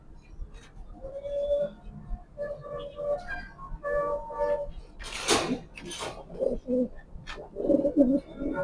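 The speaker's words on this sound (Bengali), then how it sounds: "দুইটা কবুতরই মাশাআল্লাহ অনেক সুন্দর, একদম আফসান।" Afsan Grizzle pigeons, a large-sized pair, coo in repeated soft throaty phrases close by, with a few bursts of wing flapping or scuffling partway through.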